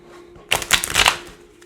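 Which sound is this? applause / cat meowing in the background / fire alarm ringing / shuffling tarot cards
shuffling tarot cards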